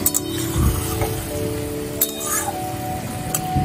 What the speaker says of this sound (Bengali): খুন্তি দিয়ে ভেঙে মিশিয়ে দিচ্ছি।